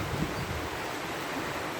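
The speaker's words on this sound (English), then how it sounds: "it rained a lot yesterday, so this water is rushing. It's going fast. The river is full." Steady broadband rush of a full river running fast after heavy rain, a continuous close wash of water with no talk.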